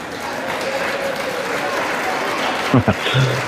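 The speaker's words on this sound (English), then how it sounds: "Lots of applause there." Applause breaks out in the US House chamber as a member votes for former Speaker John Boehner during a speaker election, a steady wash of crowd clapping mixed with voices.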